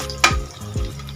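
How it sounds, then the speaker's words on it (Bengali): Soaked cashews and raisins fry with onions in a pan, giving a steady close sizzle broken by two quick stirring scrapes, with no talking. "2 মিনিট পেঁয়াজের সাথে ভেজে নেব।"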